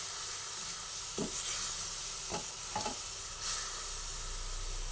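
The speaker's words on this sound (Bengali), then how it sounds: "আরেকটু জল দিয়ে দিলাম ভালোভাবে এবারে নাড়াচাড়া করে নিই" Gram-flour batter thinned with water hisses and simmers in a pan for an okra curry, with a steady steamy sizzle and a few distinct spoon strokes scraping the pan, no voices.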